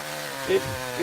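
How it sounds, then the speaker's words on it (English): A Husqvarna chainsaw runs with a rattle, giving a steady, buzzing engine drone with a couple of brief louder swells, under faint talk. "this chainsaw, it rattled more, and I liked it"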